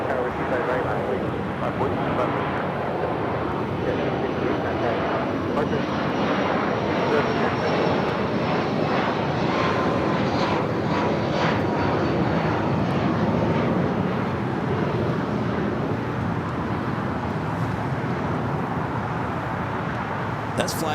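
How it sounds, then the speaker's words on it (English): A Boeing 737 MAX 8 jet at Los Angeles International Airport, arriving from Chicago O'Hare, gives a steady, loud broadband engine roar that holds without pause, with a faint high whine drifting above it. "That's flight coming in from Chicago O'Hare, flight 3008. This is the 737 at MAX 8."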